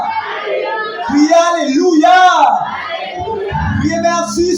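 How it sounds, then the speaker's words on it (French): Church congregation at an evangelical prayer service shouting and cheering hallelujah in a loud, swelling burst of many voices, with a leader's voice over the crowd. "Si vous croyez ça, levez vos cris, alléluia!"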